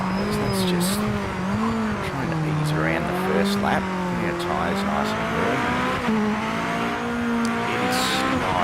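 A race car on cold tyres in Project Motor Racing slides around the first lap, its engine droning and wavering in pitch while tyres squeal and scrub beneath it, continuous and close.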